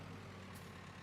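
Air hiss from a tractor's brakes being released, a steady, close rush of air over a low engine rumble.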